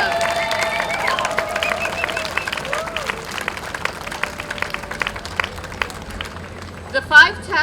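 Audience applauding the organisers of Tap City, the New York City tap festival, at a ceremony: scattered claps and crowd noise building under a speaking voice, then a few louder cheers and claps near the end.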